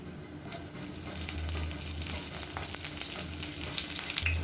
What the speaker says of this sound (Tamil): எண்ணெய் சூடானது 1 டீஸ்பூன் கடுகு, 1 டீஸ்பூன் சோம்பு சேர்த்துக்கலாம்.